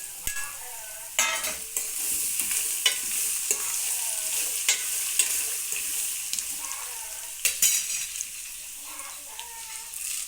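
Beetroot pieces and dried red chillies sizzle in a hot pan with a steady crackling hiss. A spoon scrapes the pan in repeated sharp strokes as the mix is stirred.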